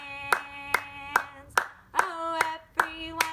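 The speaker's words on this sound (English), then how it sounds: "please clap your hands and sing along with me" Hands clap steadily in a children's parent-and-child class, about eight even, close claps over a sustained sung or played tone.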